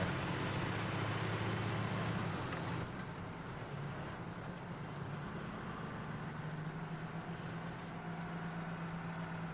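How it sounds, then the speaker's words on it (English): A tractor engine in Farming Simulator 17 revs high in a steady, loud drone, with one sustained tone that shifts slightly partway through and no talking. "His engine rev is really, really high."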